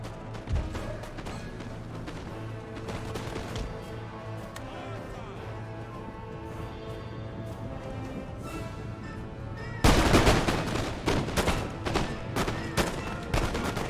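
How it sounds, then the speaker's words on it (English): Musket infantry volleys in Empire: Total War crackle in dense overlapping gunfire, a distant rattle building into louder, heavier volleys near the end. "Look how fast they shoot,"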